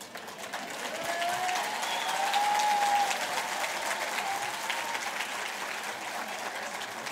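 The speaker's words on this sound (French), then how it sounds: "Retournez-vous et applaudissez vos parents." Standing graduates at a diploma ceremony applauding their parents in a large hall, a steady, moderately loud wash of many hands clapping that swells in the middle and holds to the end, with a faint whistle-like tone briefly above.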